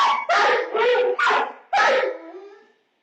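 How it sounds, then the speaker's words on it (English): Two caged dogs in a living room bark in a loud, close burst of four or five yelping, whimpering barks in quick succession, the last one trailing off. "Security footage from a living room has two dogs barking away in their cages."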